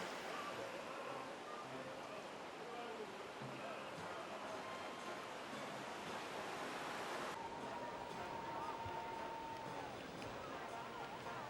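Gentle ocean surf with small waves, a faint, steady wash of broadband noise throughout, with no clear individual breaks.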